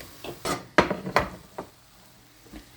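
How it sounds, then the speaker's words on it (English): Food being flipped in a frying pan while cooking cabbage, a handful of close, quick clinks and scrapes of a utensil against the pan, with no talking. "So now I like to flip it in half like this."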